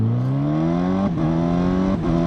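A 2025 Honda CB1000 Hornet SP motorcycle engine revving at three-quarter throttle, a loud rising tone that climbs steadily, broken by two quick gear shifts with brief dips before pulling again.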